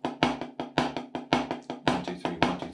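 Drum triplets played with the accent on the first note of each group and alternating between the hands, a quick, even run of sharp, close hits.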